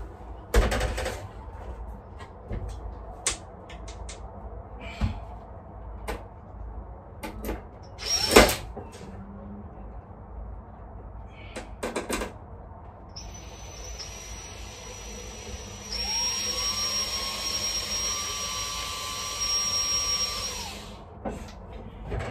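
Scattered sharp metallic clicks and knocks, then a power drill whines steadily for several seconds, its motor pitch shifting as it strains driving screws into steel checker plate without a pilot hole, close by.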